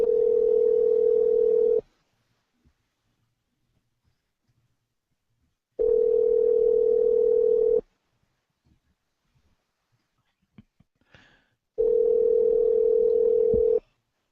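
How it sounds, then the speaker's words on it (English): Telephone tone sounding while a cell phone is being called, three steady two-second beeps separated by about four seconds of near silence, with a few faint clicks in between. "I'm gonna try to call the cell phone here."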